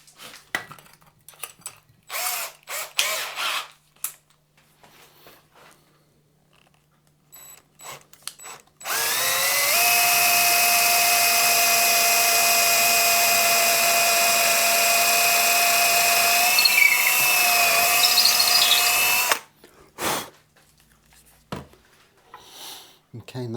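A power drill boring a truss rod hole through a guitar neck, running as one loud, steady whine of about ten seconds midway, with quiet handling noises before and after.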